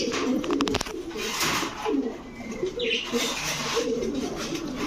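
Racing pigeons coo in a steady, close, low murmur, with a few light chirps and a burst of wing flapping early on.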